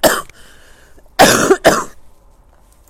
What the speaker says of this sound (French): je risque de tousser un petit peu pendant la vidéo